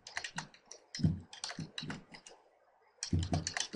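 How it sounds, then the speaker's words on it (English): Typing on a computer keyboard while entering a search query, in bursts of quick, close clacking keystrokes with a short pause partway through and no talking. "So we're typing in Lake Tahoe real estate."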